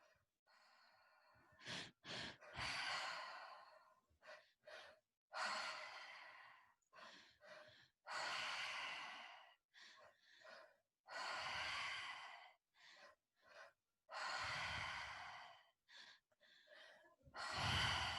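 Slow, deep breathing during a guided breathwork session: long audible inhales and sighing exhales close to the microphone, some with gasps and snorts, separated by short silences, with no talking.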